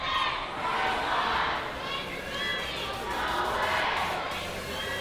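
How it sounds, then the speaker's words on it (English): A high school student section at a boys basketball game between Milton and Stoughton chants and shouts in a loud, sustained crowd roar that rises and falls in waves. "student section seems a bit more apt to do that chant right now"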